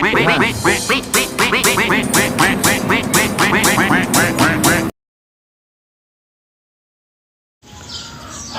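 A duck quacks over and over in a fast, steady run of loud, close calls, then it cuts to silence before a brief return of sound.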